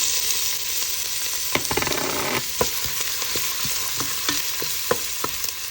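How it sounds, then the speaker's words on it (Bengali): Onion hisses loudly as it fries in hot oil, a continuous close sizzle broken by repeated stirring scrapes and knocks from a spoon against the pan. "তেল গরম হওয়ার পরে পেঁয়াজটা দিয়ে দিলাম"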